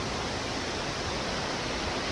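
Savdav waterfall in Kankavali, Sindhudurg, in the Konkan region, a steady roaring wash of falling water that is loud and unbroken, with no voices over it.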